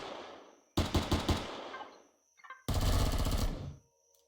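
Automatic weapon fire in the video game Empyrion: Reforged Eden, two loud close bursts of rapid shots separated by a short pause, with no talk.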